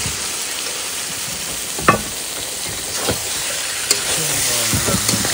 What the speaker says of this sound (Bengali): কষিয়ে নাও, লাল করে কষাতে হবে।